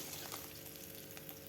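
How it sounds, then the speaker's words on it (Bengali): Small fresh pond fish, tengra, frying in hot oil in a pan, a steady close dense sizzle with no talk over it. "মাছগুলো এখন আমি ভেজে নেব।"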